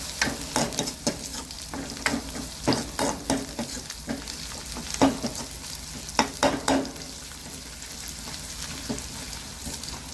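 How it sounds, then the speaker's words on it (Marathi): Curry leaves frying in hot oil for a village-style puri bhaji, with loud crackling sizzle and irregular popping bursts, punctuated by stirring scrapes in the pan, close and continuous throughout. "याला मस्त तळून घ्यायचं"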